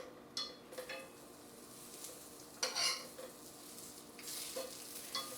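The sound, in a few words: whole wheat chimichangas sautéing in a pan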